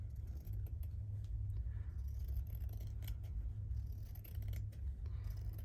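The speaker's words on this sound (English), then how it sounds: "Let's just cut this out a bit more." Scissors snipping through a loosely woven, low-fray fabric during a medieval botanicals needlework project, with scattered short cuts over a steady low background hum.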